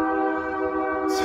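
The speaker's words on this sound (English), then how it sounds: "And there's the train." A passing train sounds a loud, sustained horn chord that holds steady throughout, with no voices over it.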